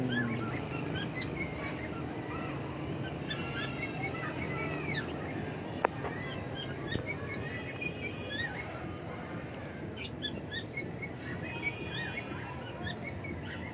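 Pet birds chirp in the evening, scattered faint tweets and calls over a low steady background hum, fairly distant and quiet, with no speech.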